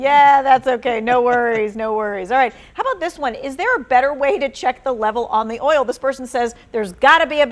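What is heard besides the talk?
No everyday noises stand out.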